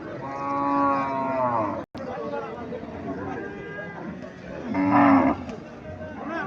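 A young Sahiwal bull calf moos in loud, drawn-out calls at a cattle market, with men bargaining over it nearby and a second bellow near the end.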